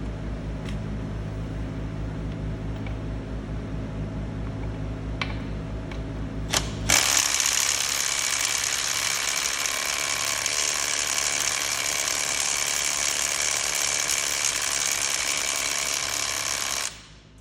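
A Milwaukee 1/4 inch stubby impact driver runs at its highest setting, starting with faint mechanical ticking before bursting into a loud, sustained rattling hammer that lasts about ten seconds and then cuts off, heard close with no voices.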